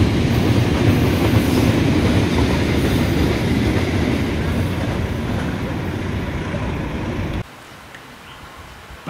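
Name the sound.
fuel tanker freight train passing on railway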